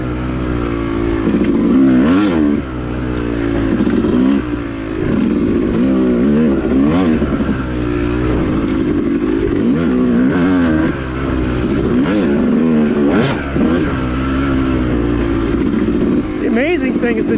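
A Yamaha YZ250 two-stroke dirt bike rides a wooded OHV trail over high-speed whoops. Its engine rasps loudly and continuously, revving up and down over bumps, and a rider talks over it.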